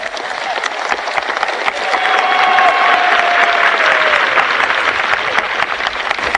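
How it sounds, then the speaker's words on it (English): A large peaceful crowd at a freedom demonstration claps and cheers after a speech, a dense sustained roar of applause swelling midway, with a faint tonal whistle or voice rising through the noise. "the peaceful crowd is on their feet, cheering and jumping and singing"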